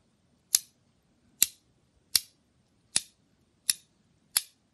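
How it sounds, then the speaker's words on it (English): Six sharp, evenly spaced clicks from a rotating haptic coin, each a crisp close snap with a quick decay, against near silence. "you get the big click."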